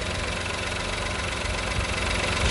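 Ford Ka 1.0 three-cylinder engine idling steadily, a dense continuous mechanical hum with a slight knocking vibration, close and alone throughout.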